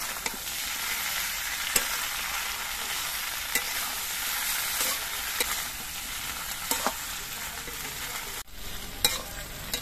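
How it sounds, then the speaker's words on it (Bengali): Poppy seed paste being stir-fried in a pan for a Bengali shukto, a steady close sizzle broken by sharp, irregular scrapes and taps of a spatula against the pan, with no voices. "পোস্ত বাটার দিয়েও আবার কিছুক্ষণ কষিয়ে নেব।"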